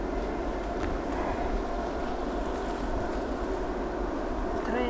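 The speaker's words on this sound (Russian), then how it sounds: "Вон уже электричку прям слышно." Distant electric suburban train rumbling steadily through a forest near a river valley, a broad continuous low roar mixed with wind, with no talking.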